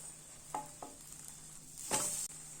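A bread omelette sizzles in a pan as it is flipped, with soft frying crackle, two quick scraping strokes early on, then a louder burst of sizzle and scrape near the end, all fairly faint.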